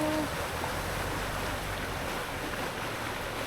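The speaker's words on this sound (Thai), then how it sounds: "น้ำล้นออกมาจากลำห้วยหลวงนะคะ" Flood water from Huai Luang creek overflows in Kud Chap, Udon Thani, after a storm, a steady, broadband rushing roar of moving water that continues evenly throughout without pause.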